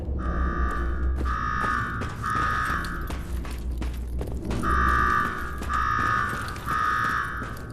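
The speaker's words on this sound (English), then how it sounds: "Shut off that damn alarm." A mechanical alarm in Nuka-World in the video game Fallout 4 sounds in repeated loud, harsh ringing bursts, each about a second long with short gaps, over a rattling, clanking mechanism, and no one speaks.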